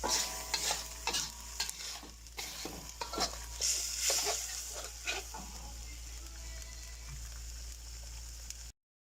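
Thai curry paste stir-frying with coconut milk in a pan for a chicken curry: quiet sizzling under repeated scraping spatula strokes, close and fairly soft, with the stirring thinning out toward the end.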